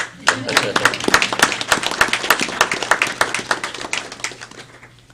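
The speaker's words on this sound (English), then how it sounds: "Now that we can clap for." Audience applause at a Combative Sports Advisory Board meeting in Austin, Texas bursts in abruptly, then a roomful of hands claps in an uneven, crackling patter that gradually thins and fades out toward the end.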